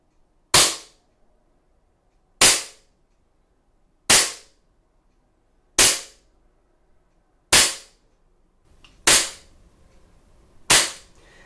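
An ASG Dan Wesson 1911 Valor CO2 airsoft pistol fires 0.2 gram BBs from its stock magazine on a fresh CO2 capsule: seven sharp, loud, evenly spaced shots about every 1.7 seconds, each with a short decaying tail and quiet between.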